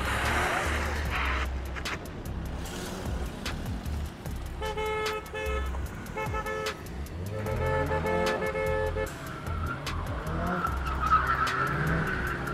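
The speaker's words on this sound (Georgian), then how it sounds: "მოდი ასრიალე გადაგიღო ძმა." Motorcycle drifting at a moto drag event, tires skidding and screeching in bursts over rumbling engine noise, with a horn-like tone and voices around it outdoors.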